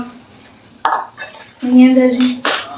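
Spoon scraping and clinking in a dish while mixing boiled potato and pea sandwich filling, a few close knocks and a longer scrape.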